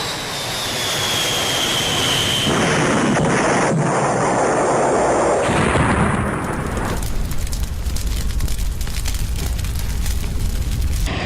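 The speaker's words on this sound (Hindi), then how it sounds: "जोरदार धमाका होता है" Roaring jet engine noise of an Air India airliner taking off from Ahmedabad builds, then a loud, sustained explosive rumble and crackling blast of the crash take over, continuing harshly to the end.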